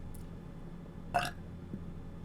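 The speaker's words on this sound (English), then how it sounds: "I'm sorry I burped." A single short burp lands about midway through, brief and fairly close over a low steady room hum, with no talking around it.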